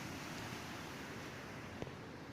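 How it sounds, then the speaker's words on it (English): A waterfall on the Cumbria Way rushes as steady broadband noise, fairly loud and continuous throughout, with no talk. "Beautiful waterfall."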